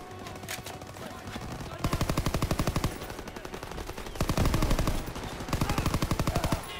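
Sustained automatic-weapon fire in the World War II shooter Call of Duty WWII, loud bursts of rapid shots broken by short gaps, with in-game battle noise between them.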